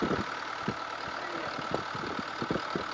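A Cummins 4BT diesel engine idles steadily and loudly nearby, with a continuous rumble and periodic knocking clatter throughout.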